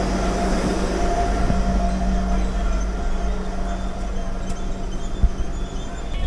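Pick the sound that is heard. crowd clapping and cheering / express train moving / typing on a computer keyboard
express train moving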